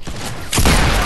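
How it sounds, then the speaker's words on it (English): A loud, sharp sniper rifle shot in a first-person shooter game lands about midway, a sudden broadband burst that rings on densely until the end, with earlier game noise underneath. "I just got sniped"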